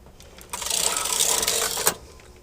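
A knitting machine carriage slides across a row of needles in one smooth pass lasting about a second and a half, a close rushing, rasping whir that ends in a short clack.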